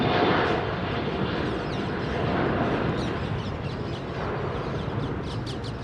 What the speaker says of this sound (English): Tilt mechanism on the 777